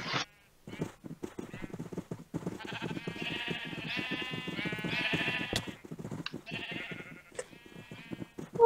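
Repeated sheep bleats in the Minecraft server Mineplex, a run of quavering calls rising and falling over several seconds, close and fairly loud, with a brief pause early on and no voices.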